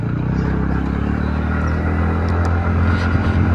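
A TVS Ntorq Race Edition BS6 scooter engine drones loudly and steadily during a ride, a constant low rumble mixed with wind noise and no speech.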